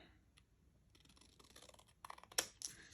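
Scissors cut paper at a close, quiet craft table. A few faint scrapes are followed by a short run of crisp snips near the end.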